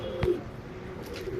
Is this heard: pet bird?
yes